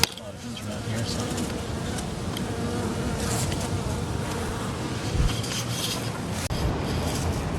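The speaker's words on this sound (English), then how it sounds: "A lot of bees around here" Dense, steady buzzing of many bees around hives, a continuous drone with occasional louder passes close to the microphone.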